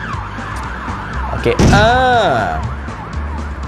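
Ambulance siren in the Stumble Guys video game, a loud wailing sweep rising and falling from about midway, with game sounds before it and a brief voice at the start.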